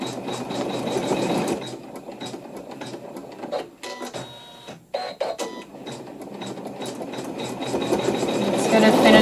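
A sewing machine stitches a decorative arch onto a hooped quilt block, its needle chattering in a fast, steady buzz with brief pauses and shifts in pace, heard close and alone.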